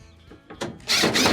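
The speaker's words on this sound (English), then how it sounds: "Next, switch over to your Phillips bit. Reattach your 2 screws inside." A power drill fitted with a Phillips bit drives screws back into a Maytag dryer during an idler assembly repair, a short whir that builds from faint ticks to a loud, sustained buzz of the motor.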